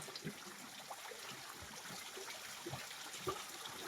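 A stream of water flows steadily with a soft continuous trickle and hiss, faint and distant, with occasional small splashes and no talking.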